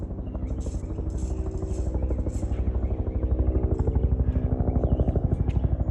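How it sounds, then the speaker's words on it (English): A military helicopter thuds loudly overhead, its rapid rotor chop pulsing steadily and growing a little louder. "Wonder what kind of helicopter that is."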